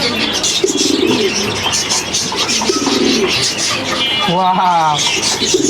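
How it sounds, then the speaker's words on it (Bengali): At a bird market in Gazipur, a pigeon coos in low rolling phrases close by while people talk over it and other birds chirp in the busy background. "এই দেখেন কত সুন্দর কবুতর"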